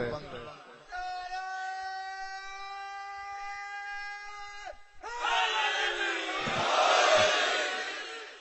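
A majlis crowd chants a religious slogan in unison, first a sustained droning call, then a louder, broader surge of many voices rising toward the end.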